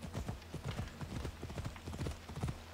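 A horse's hooves clip-clop in a fast, steady rhythm as it climbs a mountain path in Assassin's Creed Odyssey, fairly quiet and without talk.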